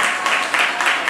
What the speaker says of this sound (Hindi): ताली बजा के धन्यवाद करेंगे